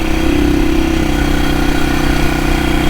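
A 1972 BSA B50SS Gold Star, a 499 cc single-cylinder street scrambler, runs with a steady loud engine drone throughout, close by and uninterrupted, with no voices.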